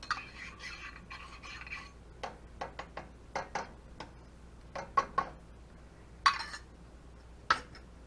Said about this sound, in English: And I want to be stirring while I'm adding.